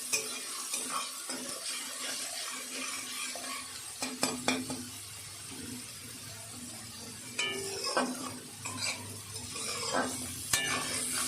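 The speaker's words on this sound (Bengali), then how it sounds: "আমি একটা মিডিয়াম সাইজে পেঁয়াজ দিয়েছি এগুলোকে আবার একটু ভেজে নেব" Medium-sized onions fry in a pan with a steady soft sizzle, broken by a few sharp scrapes and clinks of a stirring spoon against the metal, close by, with no voices.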